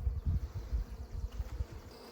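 Honeybees buzzing around a newly installed hive on a farm, a low pulsing drone that swells and fades in close, steady waves with no voices.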